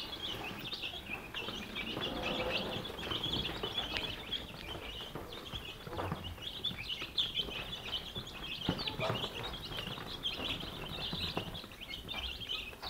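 Young free-range village chicks, a flock of about thirty, crowd around the feed, giving a dense, continuous mass of high, overlapping peeps and chirps at close range with no pauses.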